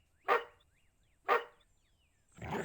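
A dog in a video game lets out two sharp, evenly spaced barks about a second apart, followed by a rougher growling outburst, fairly loud against a quiet background.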